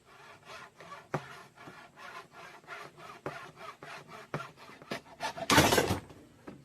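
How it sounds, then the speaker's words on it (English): A hand hacksaw cuts a part for a homemade engine catch can, giving steady back-and-forth rasping strokes in an even rhythm, close up, rising to a louder burst near the end with no talk. "we'll just get us a hacksaw here. And just try to make our cut straight"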